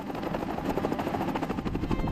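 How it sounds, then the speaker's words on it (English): A helicopter flies over New York City at sunset, its rotor chop a steady, loud, rapid pulsing wash that holds on without a break and with no voices. "A helicopter chops through the air, offering its passengers a bird's-eye view of the spectacle."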